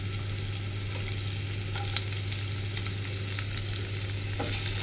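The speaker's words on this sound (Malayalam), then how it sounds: "ഇഞ്ചി നമുക്ക് ഇതേപോലെ തന്നെ ഇളക്കി ഒന്ന് മിക്സാക്കി കൊടുക്കാം കേട്ടോ" Ginger sizzles and fries in a pan as it is stirred, a steady close hiss with faint scraping touches and no talking.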